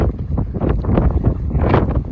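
Strong wind buffets the microphone in gusty, rumbling waves on the Guadalupe Ridge Trail, loud and continuous with no other clear sounds.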